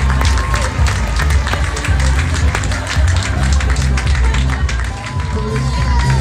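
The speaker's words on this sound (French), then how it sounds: "Applaudissements pour le top 5." A steady, loud crowd applauds and claps for the top five runners at a midnight trail race podium, continuous dense clapping with scattered cheers and murmuring voices.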